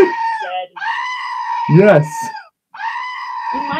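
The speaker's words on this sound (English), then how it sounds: "It is time for the goat scream." A loud goat scream sound effect: long, harmonic bleating screams that rise and waver, repeated several times with a short pause, and a voice briefly in the middle.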